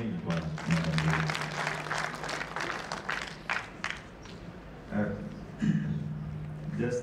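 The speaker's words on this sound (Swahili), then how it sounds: "Makofi mengi kwa Madam Lulu." Audience applause for a presenter at an annual lawyers' conference, a broad sustained clatter of many hands with a steady low hum beneath and voices mixed in.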